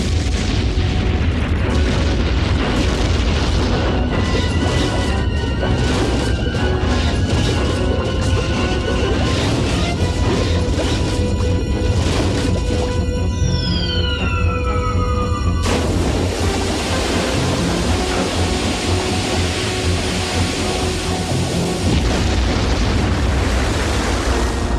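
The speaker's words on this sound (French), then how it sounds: "Regardez, le volcan est en éruption." Volcano erupting in a French-dubbed G.I. Joe cartoon, with continuous loud rumbling, crashing blasts and layered explosion effects, a descending whistling sweep partway through, and no talk over it.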